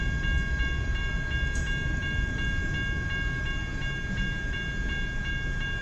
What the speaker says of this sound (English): The grain train, I think.